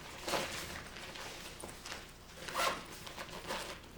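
A zipper on a NOMATIC x McKinnon camera bag is pulled closed in a few quick, close rasping strokes, fairly quiet with short pauses between pulls.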